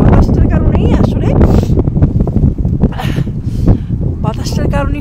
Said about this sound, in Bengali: এটা মানে কি পরিমাণ বাতাস, ঠান্ডার যে হচ্ছে বাতাসটার কারণেই